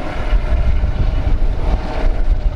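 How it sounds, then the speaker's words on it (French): Eurocopter EC-120 helicopter in the colours of the Dax flight school, heard as a steady, loud rotor and turbine drone with wind buffeting, no voices. "l'hélicoptère EC-120 aux couleurs de la ligne de Dax"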